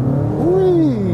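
A 200-horsepower VW Tiguan engine revs up steadily, its tone rising and then falling back, heard close and continuous.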